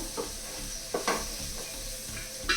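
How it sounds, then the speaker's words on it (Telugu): Steady, close sizzle of onion frying in a pan, with a few clinks and scrapes of a spoon stirring, no voices. "ఒకసారి ఉల్లిపాయ కూడా వేయించేస్తున్నాము"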